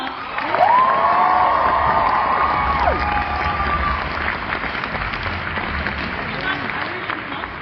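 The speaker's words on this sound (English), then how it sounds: "Everyone, one more cheer." An audience at a cosplay competition cheers and applauds loudly, a sustained wash of crowd noise with whoops, while a voice rings out over it before the sound gradually eases.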